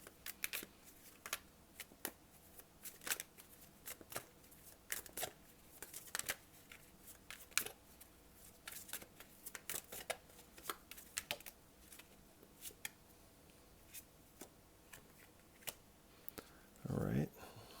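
Tarot cards are shuffled and handled in short, quiet riffles and taps spread across the stretch, with a brief louder rustle near the end.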